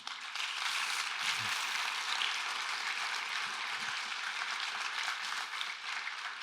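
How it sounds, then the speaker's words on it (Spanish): A church congregation applauding during a sermon, a dense, steady wash of clapping that stays even and fairly soft throughout, with a few low thumps early on. "Dele ese aplauso al Señor."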